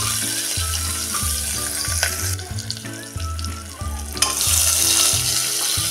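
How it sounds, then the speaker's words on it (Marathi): Tomatoes sautéed with browned onions in a pan: a steady, bright sizzle runs throughout, with a few stirring clicks and a low rhythmic hum beneath. "टोमॅटो टाकल्यानंतर पण आपण हे आता अगदी 1 मिनिटभर परतून घेऊया।"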